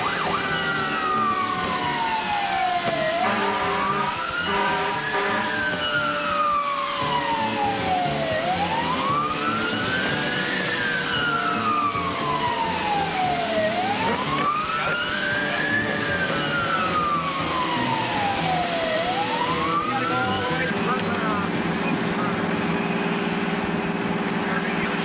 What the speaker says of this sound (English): make an emergency run down Main Street with engine 31-3 with lights flashing, the sirens screaming,